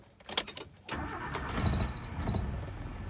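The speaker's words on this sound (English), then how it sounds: "Let's start the motor." 1989 Suzuki Vitara after an alternator replacement: a few clicks and the starter cranking, then the engine catches at about one second and settles into a steady, moderately loud idle.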